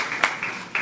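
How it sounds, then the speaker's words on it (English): Audience applause at the announcement event of the Mumbai festival, a steady wash of clapping with a few louder bursts, brief and moderately loud. "Please give them a big round of applause."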